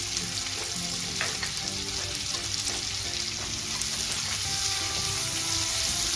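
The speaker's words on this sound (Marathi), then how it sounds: "हे सगळं एक 4 ते 5 मिनिट अगदी व्यवस्थित भाजून घ्यायचं आहे, फ्राय करून घ्यायचं आहे तेलामध्ये" Sweet corn and macaroni fry in oil in a pan with a steady, close sizzle that runs throughout, while occasional stirring adds faint scraping.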